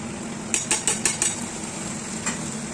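A ginger, garlic and cumin paste goes into a pan over a high gas flame for potol chingri. A quick run of five metallic clinks and scrapes is followed by a later single tap over a soft steady sizzle.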